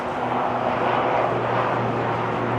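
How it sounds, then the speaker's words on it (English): A helicopter passes over a Manhattan street, its broad, steady rotor and engine roar filling the air at moderate loudness with no break. "There goes the helicopter again."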